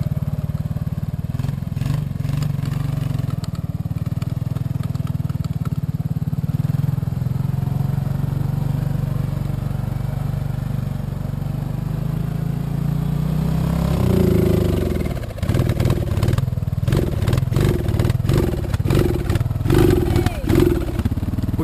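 An Arctic Cat 250 ATV engine drones steadily while driving through snow, then revs up and sputters near the end, with people talking over it.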